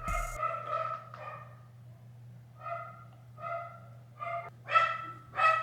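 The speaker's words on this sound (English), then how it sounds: "That's my like 14-year-old dog, he's dying." A 14-year-old dog barks indoors in a series of about eight short, hoarse woofs, irregularly spaced and growing louder toward the end over a low steady hum.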